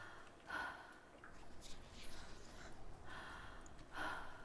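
Two quiet audible gasping breaths from the heroine in Hellblade: Senua's Sacrifice, spaced a few seconds apart over a low, dim ambient hum.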